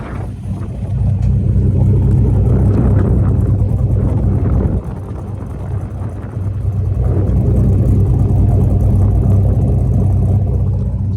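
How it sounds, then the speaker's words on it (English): A loud, deep rumble from a 2006 Dodge Ram 1500 SRT-10 pickup's engine with throaty exhaust drones steadily, dipping briefly midway before building again, buffeted by wind noise. "This truck sounds so mean."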